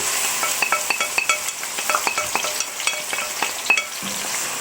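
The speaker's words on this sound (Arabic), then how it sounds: "دلوقتي هبتدي انزل بعد ما الزيت اتقدح هو والسمنه عشان ميبقاش ليهم ريحه، اتقدحوا كويس. هنزل بالبصل اهو عليهم" Onions sizzle and crackle in hot oil and ghee in a pan, a steady close frying hiss with a few sharp clinks and scraping stirs scattered throughout.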